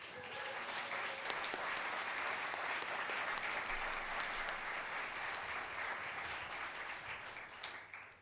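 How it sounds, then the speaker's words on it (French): Sustained, dense applause from a concert audience at Bozar, steady and loud throughout before easing slightly at the very end, with no voices over it. "Je voudrais vraiment un tonnerre d'applaudissements."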